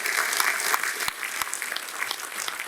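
A crowd at a Babasaheb Ambedkar birthday gathering breaks into loud applause, a continuous wash of dense clapping with a few sharper claps standing out.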